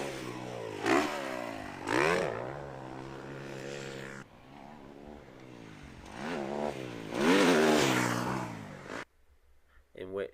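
A 2024 Kawasaki KX450 motocross bike engine revs in several sharp, rising bursts that fall back to idle in between, loud and close, ending with the engine cut off.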